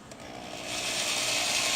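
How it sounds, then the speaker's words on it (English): A power drill whirs close by, its motor rising in pitch and then holding a steady high whine as it drives a screw into a kayak. "take the drill, the regular old drill, and my screw, put my screw on here"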